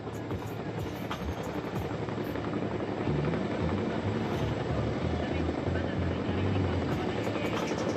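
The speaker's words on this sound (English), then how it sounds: "both Chinooks holding the position in the form of bowing to the audience" Two Chinook helicopters hover side by side at an Indian Air Force air show, their heavy rotor thump and turbine roar steady and loud throughout, with a voice talking over the noise.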